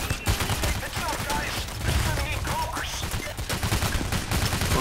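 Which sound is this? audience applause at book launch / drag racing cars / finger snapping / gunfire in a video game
gunfire in a video game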